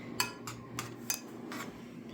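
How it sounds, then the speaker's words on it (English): A spoon stirs lavender into milk in a kitchen pan, giving a few light metallic clinks and scrapes spaced irregularly over a couple of seconds against a quiet hum. "now stir it around a little bit"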